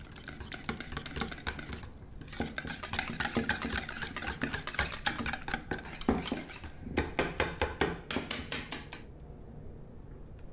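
A whisk beats mascarpone and Greek yogurt in a bowl, producing a quick, steady run of close clinking strokes that speeds into sharp rhythmic bursts, then stops abruptly.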